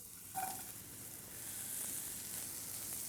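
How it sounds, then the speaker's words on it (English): Sweet potatoes hitting a hot pan, a faint, steady hiss of sizzling that builds slightly after a brief clink, heard close but quiet with no voices. "We're gonna just throw these right into our pan here."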